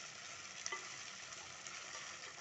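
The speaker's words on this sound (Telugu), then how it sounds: "ఇట్లా 10 మినిట్స్ కలిపిన తర్వాత ఇవి మంచిగా వేగాలి వంకాయలు" Brinjal pieces fry gently in a pan on low flame, giving a soft, steady sizzle with a faint clink or scrape of stirring early on.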